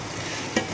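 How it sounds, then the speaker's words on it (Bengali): Rice grains for white pulao fry in oil and spices, a soft continuous sizzle with one brief scrape of a spoon stirring through the pan, close by. "দেখো চালগুলো ভাজা হচ্ছে ভালো করে।"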